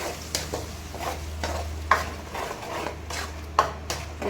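Onions frying until browned in a pan, stirred with a spoon that scrapes and taps the metal in regular strokes over a continuous sizzle, close and moderately loud.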